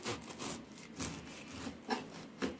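Homemade bread, freshly baked and cooled, sliced with a knife: a sequence of raspy sawing strokes with sharper crunchy bursts near the end, close and fairly quiet.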